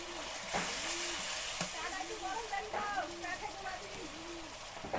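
Spices with ginger-garlic paste, chili powder and turmeric sauté in a pan for a fish curry with taro, giving a steady sizzle with intermittent scraping stirs and clicks, while a voice talks over the cooking.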